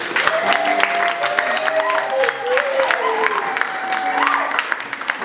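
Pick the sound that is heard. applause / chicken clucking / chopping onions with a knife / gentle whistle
applause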